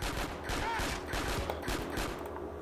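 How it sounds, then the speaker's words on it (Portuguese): Rapid gunshots fill a Grand Theft Auto: San Andreas gang-war fight, a dense, continuous fusillade of loud cracks close up with no pauses. "eu tô atirando no pé"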